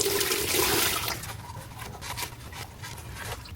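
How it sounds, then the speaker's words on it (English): Water rinsing crud off a removed thermostat housing part, a rushing splash that starts strong and fades into softer trickling and dripping, close by and without talk. "I'm gonna wash this off with some water."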